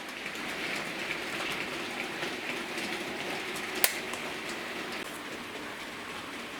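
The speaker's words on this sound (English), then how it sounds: "the loco going through the radius 3 part of the Setrack curve point, the ST245 left hand" A model train locomotive rolls steadily through the radius 3 part of a Setrack ST245 left-hand curved point, giving a continuous soft rushing rumble with one faint sharp click partway through, with no talking.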